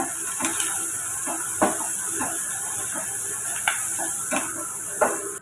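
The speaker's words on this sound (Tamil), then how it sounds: "நம்ம வதக்கி எடுத்துக்கலாம்" Onions, green chili and curry leaves sautéing in a hot pan, a continuous close sizzling hiss broken by light scrapes and taps of a spatula.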